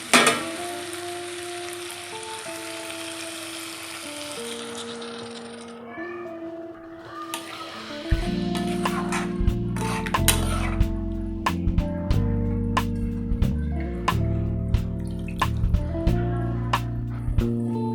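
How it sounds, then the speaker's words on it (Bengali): Jackfruit curry masala (echor kalia) frying in oil in a pan, a soft sizzle that erupts into loud, crackling bubbling when water is poured in, then keeps spitting and popping. "এবার আমি পরিমাণ মতন জল দিয়ে দেবো"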